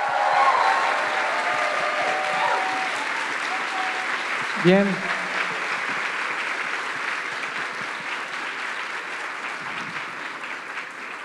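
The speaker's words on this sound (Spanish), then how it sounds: "Así que un aplauso a Pixelatl," An audience applauds at the Pixelatl 2022 festival during a talk about the animated work Frankelda, a dense sustained clapping that slowly thins, with a speaker briefly saying a word partway through.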